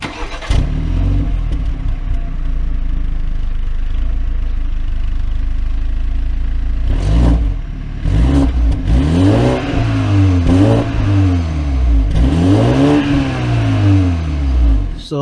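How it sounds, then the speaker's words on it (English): A BMW 320i with a 2-liter turbocharged four-cylinder is started and revved through real dual exhaust, settling into a steady idle before several sharp blips that rise and fall, loud and close. "this BMW 2-liter turbocharged engine, it has a lower version of engine, but the dual exhaust, they're real dual exhaust"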